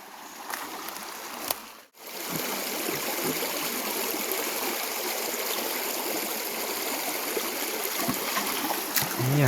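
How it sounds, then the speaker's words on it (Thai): A forest stream at night flows in a steady, close, continuous rush and trickle of water, with a brief dip early on and faint voices under it. "ทุกคนฟังเสียงน้ำไหลเสียงธรรมชาติ"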